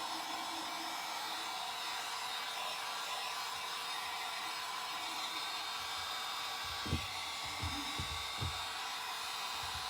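A hair dryer runs steadily and evenly throughout, drying fresh paint on a small rim, with a few low knocks and bumps near the end.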